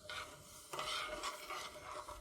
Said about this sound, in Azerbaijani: Ocağa qoyub şəkər tam əriyənə qədər qarışdırıram.